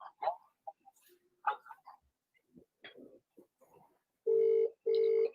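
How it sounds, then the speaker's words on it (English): A phone ringtone rings twice near the end, loud steady tonal bursts after a stretch of scattered faint talk and noises. "Can you hear the ringtone?"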